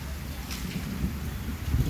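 Outdoor wind gusts through an elephant area, a low, steady rumbling buffet across the whole stretch that swells slightly at the end.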